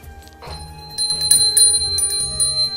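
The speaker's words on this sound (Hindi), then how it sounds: "घंटी" A handheld puja bell rings repeatedly during an Ahoi Ashtami home worship, its bright, sustained metallic tone shimmering and overlapping in close, clear strikes.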